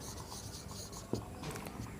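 Pen scratching across paper in steady short strokes, close and quiet, with a few light taps and rubs between words while a lesson is being written out.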